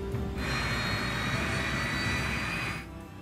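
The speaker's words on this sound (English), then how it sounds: "The crew starts the Yak's 3 engines." One of the three rear jet engines of a Yak-42 airliner spins up during start, a loud steady whine and roar that holds evenly, then cuts away sharply near the end.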